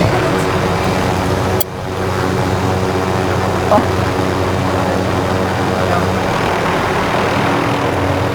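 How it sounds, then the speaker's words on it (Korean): In a Call of Duty Warzone match, a helicopter engine drones steadily and loudly throughout, with a sharp click near the start and a brief knock later, no talk over it. "헬기 한번 타봐야겠다."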